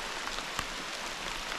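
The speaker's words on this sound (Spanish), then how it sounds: "Solo que está que llueve, estamos calmando un poco de grabar, porque la lluvia está fuerte, fuerte." Heavy rain pouring down outdoors, a dense steady hiss of drops with one sharper splash, constant and fairly close.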